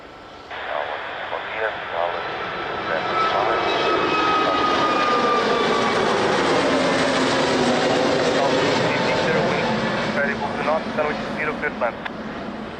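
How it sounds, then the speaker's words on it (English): Air Canada airliner taxiing at Lisbon Airport, a steady broad jet roar that builds and holds loud and near for several seconds, with radio chatter and voices heard beneath it. "So, Air Canada finally taxiing."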